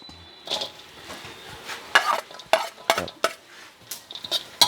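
Lemongrass, garlic and shallots are stirred in a frying pan for a chili paste, giving irregular bursts of spoon scraping and faint sizzle, close and intermittent, with quiet gaps between strokes.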